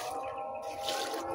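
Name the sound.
watering plants with water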